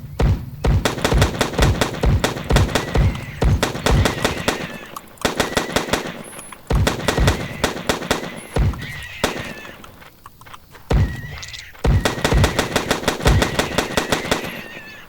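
A turret in the game Gaia fires bullets in rapid rhythmic bursts of sharp, loud shots, broken by brief pauses and mixed with neighing horse calls and clip-clop sounds, no talking.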